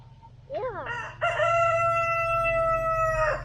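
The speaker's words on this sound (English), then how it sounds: "That rooster is noisy." A big rooster crows loudly and close by, one long drawn-out cock-a-doodle-doo rising from a few short opening notes, with a low steady hum beneath it.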